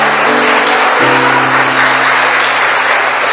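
Steady, loud applause from a church congregation, with a sustained organ or keyboard chord beneath it.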